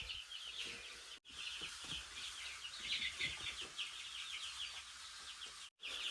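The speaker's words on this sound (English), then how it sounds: "So these chicks here, these are our meat chickens." Cornish cross meat chicks and laying hens inside a farm coop, a steady chorus of high chirping and soft clucking from many birds, close and continuous with two brief silent breaks.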